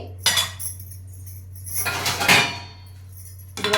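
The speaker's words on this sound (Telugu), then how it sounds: "ఇలా మూత పెట్టేసుకుందాం" A lid goes onto a cooking pot with metallic clinks and scrapes: a sharp knock, then a longer rattling scrape as it settles, and another clatter at the end, over a low steady hum.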